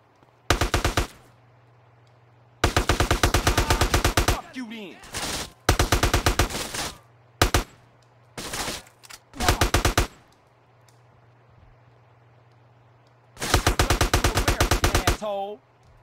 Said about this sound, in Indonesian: ada yang nembak dari atas ya